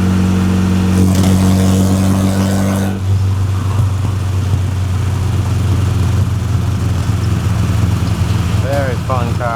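A 1973 Porsche 914 Targa with a 2.0L engine and manual gearbox drives along, its steady engine drone loud and continuous throughout, with a brief rising rev near the end.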